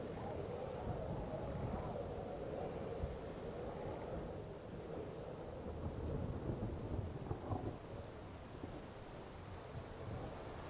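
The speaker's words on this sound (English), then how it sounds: "On top of the loud rain." Heavy rain pours steadily in Kingdom Come Deliverance II, with rolling thunder rumbling underneath, a continuous dense wash of storm noise with no talk.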